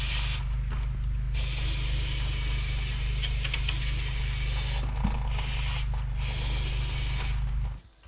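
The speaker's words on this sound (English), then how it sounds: "I'm gonna spray this down real quick before I get my new cylinder in" Aerosol spray hissing onto the rear brake assembly of a 1979 Ford Bronco during a wheel cylinder replacement, several long close bursts with short pauses between, over a steady low mechanical hum.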